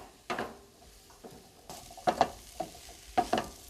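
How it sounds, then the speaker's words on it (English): Vegetables and spices sauté in a pan with a low sizzle, broken by a handful of loud, close scrapes and clanks as they are stirred, heard alone without any voices. "let's let this saute up a little bit"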